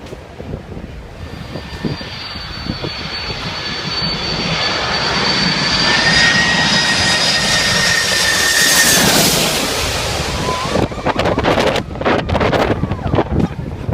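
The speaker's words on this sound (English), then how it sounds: "This monster jet sweeps just 15 feet above your head" A Boeing 747 jet roars low over a beach on its landing approach, its engine noise swelling to a loud peak before fading, with heavy wind buffeting and crowd noise near the end.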